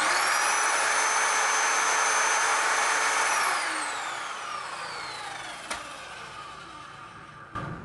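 A Mollar MS1200S sliding miter saw runs loud and steady with a bright whine that falls away as the blade spins down, ending with a couple of brief knocks.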